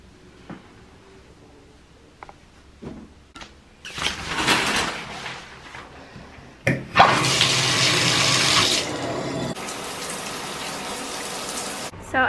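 Shower water running at home in the evening: a steady broadband hiss of spray that starts partway in, grows louder and fuller, then continues strongly to the end with no talking.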